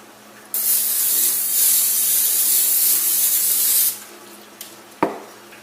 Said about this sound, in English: I'm going to spray with some cooking spray. Spray the cookie sheet.